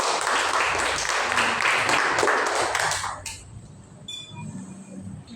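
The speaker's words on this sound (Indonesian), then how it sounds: "Beri aplaus kepada Bina." A small classroom group claps for a student during a microteaching lesson, a dense burst of applause lasting about three seconds before fading into quiet room noise with a few faint taps.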